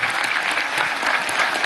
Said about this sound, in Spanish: Quiero pedirle un gran aplauso a la Guardia Nacional Bolivariana